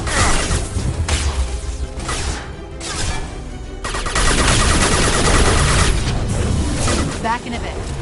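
Rapid gunfire and crashing impacts in Mass Effect 2 combat, sustained bursts of shots and hits, loud and dense, with a voice talking over the fighting.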